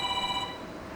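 A telephone rings for a call-in on a Quran-recitation TV programme, a single steady electronic ring that fades out quickly into quiet studio background.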